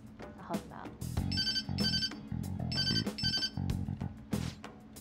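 A phone rings in the video game Persona 5 with a repeating electronic ringtone in bursts, mixed in with speech and background music.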